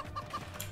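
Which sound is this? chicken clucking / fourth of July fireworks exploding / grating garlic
chicken clucking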